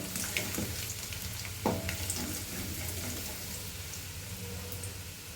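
Freshly cut ginger and garlic pieces frying in a pan, a soft continuous sizzle with a few light clicks and stirring sounds, fairly quiet and without talk.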